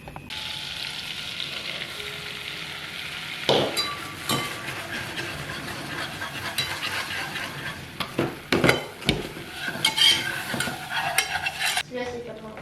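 Butter, flour and milk stirred in a pan for a roux-based sauce: steady scraping and stirring with a soft sizzle underneath, punctuated by sharper utensil knocks against the pan toward the end, close and fairly clear.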